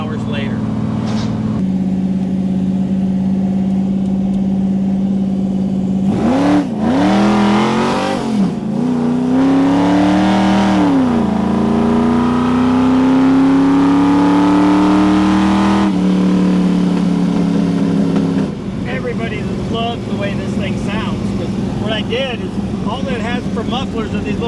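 A deep, throaty 1970 Superbird V8 with small Magnaflow mufflers idles, then revs hard several times with rising and falling pitch, loud and close, before settling back under voices.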